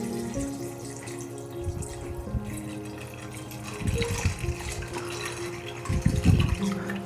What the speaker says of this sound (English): first, I have to put water in my vase.